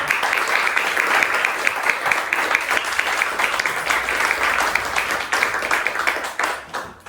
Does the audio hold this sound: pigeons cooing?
no